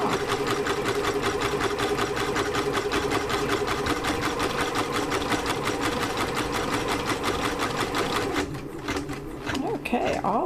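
A multi-needle embroidery machine stitching a cap clamped in a Durkee hat hoop gives a loud, fast, steady mechanical chatter that runs nearly throughout, then stops near the end as handling noises follow.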